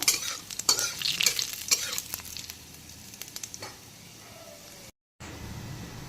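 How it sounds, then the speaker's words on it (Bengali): Panch phoron and dried red chillies sizzling in hot oil for a Bengali okra curry, with a busy crackle and stirring scrapes early that settle into a steady low fry, a brief dropout near the end. "এখন 5 ফোড়ন আর শুকনো লঙ্কাটা একটু ভাজা ভাজা করে নেব প্রথমে।"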